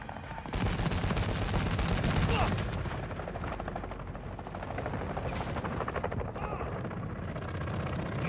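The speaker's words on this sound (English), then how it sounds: "Quad chopper gunner is inbound hot." Helicopter rotor drone and rapid bursts of gunfire from a chopper gunner in the Modern Warfare 2 video game, loud at first and then settling into a steady churning rumble with scattered shots.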